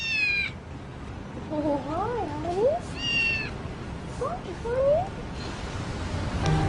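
Several high, thin kitten meows ring out in quick succession, some rising and wavering, against a faint background hiss.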